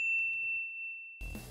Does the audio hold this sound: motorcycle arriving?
no